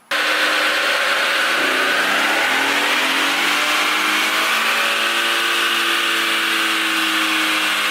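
A 2021-era tuned Infiniti Q50 running a JB4 boost controller screams through a loud, sustained full-throttle pull on a dyno, its engine note climbing steadily with no talk over it.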